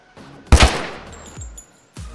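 A gun in modded Minecraft fires one sharp close shot, followed by a short ringing tail and a couple of faint thuds, with no talking.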